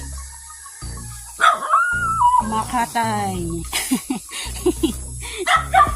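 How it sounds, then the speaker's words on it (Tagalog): A small dog barks and yips in sharp bursts, close by, while a person talks over and between the barks. "Huwag kang tumahol-tahol."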